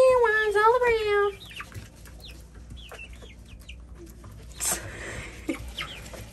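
Showgirl and silkie chickens cluck and call over a treat of mealworms, a loud burst of vocalizing at first, then softer scattered clucks and chirps close by, with a brief rustle near the end.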